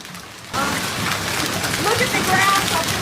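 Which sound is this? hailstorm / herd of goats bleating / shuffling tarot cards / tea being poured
hailstorm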